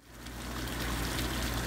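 A hot tub's waterfall feature at a cottage in Holmes County, Ohio, running water in a steady, close splashing rush that swells over the first moments and then holds even, with no voices.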